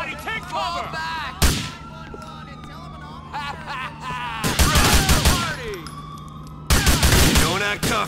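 Bursts of gunfire in GTA 4 during a shootout with police at an industrial park, loud volleys in several clusters mixed with shouting voices and a siren-like wail.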